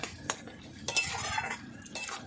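A utensil scrapes and clinks against a pot of mutton cooking on a wood-fired stove, a few close metallic strokes with soft wet movement between them.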